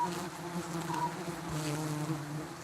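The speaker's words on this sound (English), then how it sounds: "Bees get disorientated with smoke." Honeybees in a wild colony buzz steadily while being smoked so their honeycomb can be uncovered, a dense, continuous droning hum close by with no voices.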